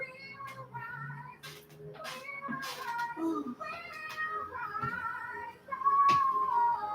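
A house cat meows several times indoors, drawn-out tonal cries of varying pitch at moderate volume, with a louder, higher meow near the end.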